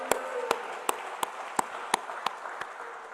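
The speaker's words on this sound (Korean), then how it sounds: "하나님께 영광의 박수드립니다" Steady, evenly spaced hand claps ring out in a large church prayer-hall sanctuary, about nine sharp claps in a regular rhythm over a soft background hum.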